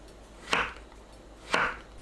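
Shiitake mushrooms being sliced 0.5 cm thick with a knife on a cutting board: two distinct chops about a second apart, crisp and close in a quiet room.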